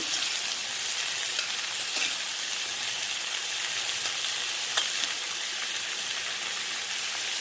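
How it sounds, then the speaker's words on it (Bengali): Vegetables for a fish curry fry in oil over medium heat, producing a steady, soft, hissing sizzle with occasional sharp pops and spatters, close and even throughout. "এখন আমি এগুলোকে একটু মিডিয়াম আঁচে ভাজতে থাকি।"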